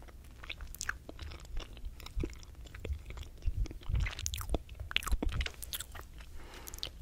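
Close, soft chewing and biting of a Crumbl key lime cookie, with steady wet mastication and small crunches, quiet and intimate with no talking.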